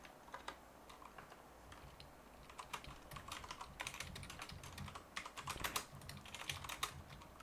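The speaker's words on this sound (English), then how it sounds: "God, I am terrible at typing today." Quick, uneven tapping on a computer keyboard during a podcast session, keystrokes clattering in bursts that grow busier toward the end, close and fairly quiet with no talking.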